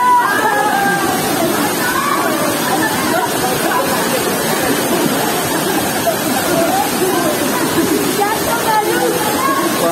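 Fast, rushing cold stream water at a waterfall and natural swimming pool roars steadily throughout, with a crowd's murmur and voices mixed in underneath.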